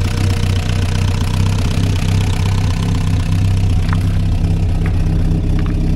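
A 1964 Jeep CJ5 engine runs steadily just after starting, a loud continuous idle with a low rumble and slight knock, heard up close and alone.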